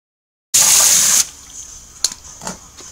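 Water gushes loudly from a tap to rinse a fermenter, a strong steady rush for under a second that stops abruptly, followed by a few faint splashes and drips.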